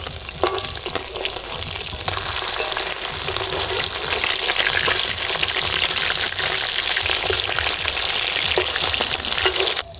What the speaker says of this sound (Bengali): মাছগুলো এক করে ভাজা হয়ে গেছে উল্টে দেবো